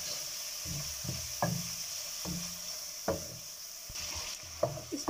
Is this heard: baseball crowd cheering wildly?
no